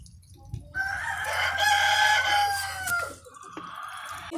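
A farmyard rooster crows one long, loud, drawn-out call that rises and trails off, close by, with faint clucking and yard noise around it.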